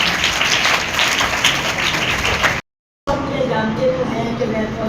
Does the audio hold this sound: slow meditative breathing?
no